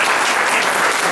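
An audience bursts into applause at a recognition event, a dense steady wash of many hands clapping together, loud and continuous without a break.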